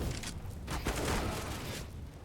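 Gunfire in the video game CS:GO during a MOUZ versus Imperial match, a rapid, dense cluster of shots clattering over about two seconds against a noisy game background.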